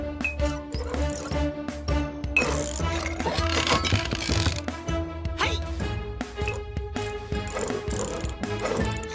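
Cartoon robot's wrench ratchets in a rapid series of mechanical clicks and whirs, mixed in with a busy orchestral music score in an animated Animal Mechanicals episode.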